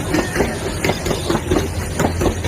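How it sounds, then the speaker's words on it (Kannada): A heavily loaded goods train rumbles past close by, with a steady low roar and rhythmic clickety-clack of wheels over rail joints. "ಲೋಡಿಂಗ್ ಟ್ರೈನ್ ಅನ್ಸುತ್ತೆ."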